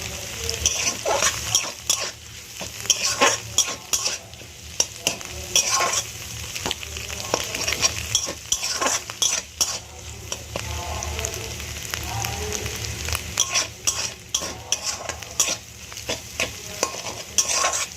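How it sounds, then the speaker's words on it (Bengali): An egg frying in hot oil in a pan while a spatula stirs and scrapes it, continuous crackling sizzle broken by frequent sharp clatters of the utensil against the pan, close and fairly loud. "ডিমটা ভাজা হয়ে গেছে, এবার আমি তুলে নেব।"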